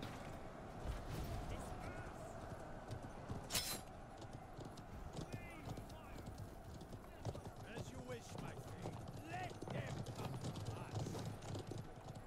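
Horse hooves clatter steadily in the video game Conqueror's Blade, a continuous clip-clop amid a busy battlefield mix with a brief loud burst, with occasional whinnies and talk in the background.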